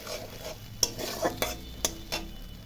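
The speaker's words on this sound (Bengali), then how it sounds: "মশলাটা ভালো করে কষাবো কিছুক্ষণ।" Spice paste with salt and turmeric being stirred and fried for a cauliflower paneer rosa: a steady low sizzle under several sharp spoon scrapes and clinks against the pan, no talk.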